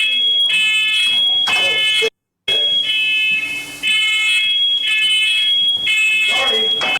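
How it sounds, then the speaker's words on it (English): A fire alarm blares in a house after a small explosion on a gas stove, a loud, piercing, steady electronic tone with repeated pulses and one brief dropout, with voices talking over it. "After they fix the fire alarm"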